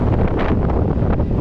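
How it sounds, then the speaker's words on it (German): Loud wind buffeting the microphone in rough, rumbling gusts at the Mirabilandia amusement park in Italy, with no voices. "Wow, ist das windig."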